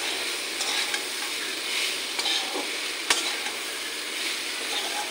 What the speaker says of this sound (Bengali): এখন আমি সবগুলো মিশিয়ে নেব।